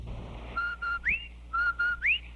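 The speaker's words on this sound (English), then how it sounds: "That whistle. That's the Rinso White whistle." A two-part whistled jingle from a 1945 radio broadcast of Amos and Andy, the Rinso White whistle, sounds twice: two flat notes and then a rising slide, clear over a low hum.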